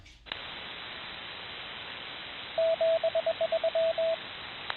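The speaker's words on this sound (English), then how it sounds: "Ah, little Morse code." Morse code comes over an amateur radio receiver as a short run of steady beeping tones, keyed in a quick irregular rhythm, clear above a constant bed of hiss and static.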